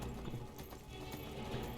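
Horse hooves clip-clop in a steady galloping rhythm in the Skyrim video game, close and moderately loud with no speech over them.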